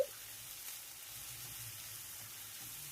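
Malabar spinach with dry coconut powder frying in a pan, a soft, even hiss of sizzling that carries on without a break, quiet and close, with no talking.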